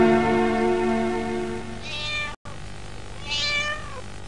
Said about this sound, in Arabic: مش ده صوت قطه ده بردك؟